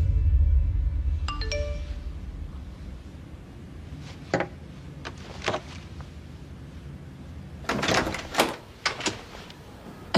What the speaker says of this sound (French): Alors j'ai une sonnette.